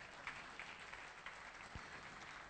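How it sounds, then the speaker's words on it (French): A church congregation claps during a French-language sermon, faint, dense applause continuing throughout without voices on top. "Applaudissez, applaudissez, applaudissez."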